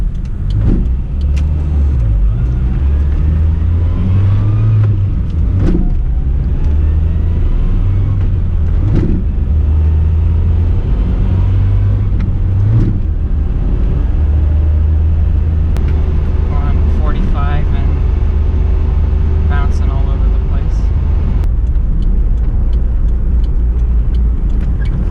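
Manual-transmission car engine on the road, cabin view, rumbling low and steadily with repeated rises and falls in revs over about 25 seconds.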